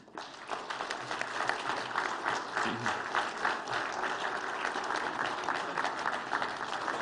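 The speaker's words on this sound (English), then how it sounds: "Another round of applause." Sustained applause from a large crowd at the official launch of Ghana.Gov, steady and dense throughout, with no voices standing out.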